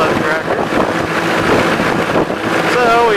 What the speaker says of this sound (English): Rolling up through the countryside here on an International 364, the loader on.